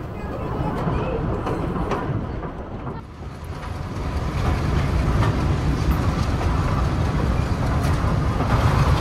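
The Bhakra Railway train runs from Nangal toward Bhakra Dam with a steady rumble and rattle of carriages, rising slightly in loudness, while a voice speaks faintly beneath the running noise.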